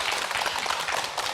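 A studio audience at a TV quiz show claps briefly in a dense, even burst welcoming guests.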